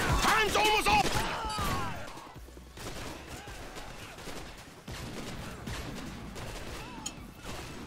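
In Modern Warfare 2, someone fires an M40 sniper rifle carried over from Call of Duty 4. A few sharp, isolated cracks ring out amid busy game noise, with a voice talking loudly at the start.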